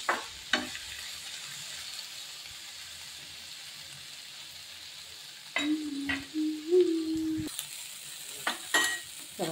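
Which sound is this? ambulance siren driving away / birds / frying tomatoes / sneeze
frying tomatoes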